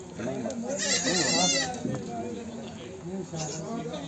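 A Beetal goat bleats loudly nearby at a goat market with a long wavering cry, then a fainter bleat follows, while people talk in the background.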